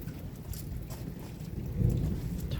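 Heavy rain from a strong thunderstorm in Montady falls steadily, with low rumbling that swells near the end, suggesting nearby thunder under the downpour; no voices are heard.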